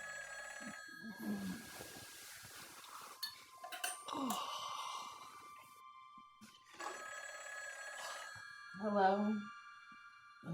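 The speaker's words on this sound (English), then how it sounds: "John, get your phone." A home landline telephone bell rings in a house with bursts of clear metallic ringing, one strong near ring late on, while people talk over and between the rings.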